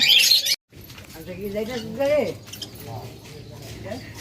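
Pet birds kept in pairs by a breeder, loaded onto a motorbike, give a short burst of high, bright chirping at the start, followed by someone talking over faint background noise.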